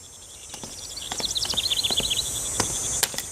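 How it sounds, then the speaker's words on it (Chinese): Crickets chirping in a Chinese period drama, a series of quick high trills rising mid-clip over faint background noise and scattered soft taps. "咱们去抓蛐蛐吧。"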